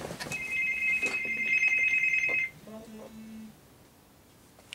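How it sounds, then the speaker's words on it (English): A mobile phone rings with a bright, continuous electronic trill for about two and a half seconds, then cuts to a few softer low tones. A voice and some handling noise sit faintly underneath. "My damn phone's going off."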